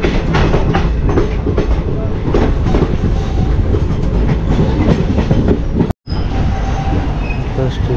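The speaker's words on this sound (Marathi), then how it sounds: "तर आपली ट्रेन बघा 8:46 आडवलीवरून निघाली." A passenger train runs along the Konkan line from Adavali toward Rajapur Road, with loud, close wheel clatter and rhythmic clicks over the track joints. A brief cut interrupts the continuous roar.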